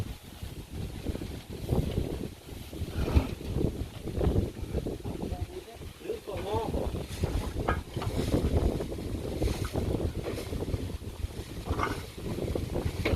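Strong, dry wind gusts and buffets the microphone outdoors at a home where cement and bricks are being delivered, a loud, irregular roar that runs throughout, with someone talking over it.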